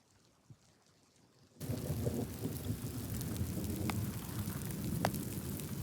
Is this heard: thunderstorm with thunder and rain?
yes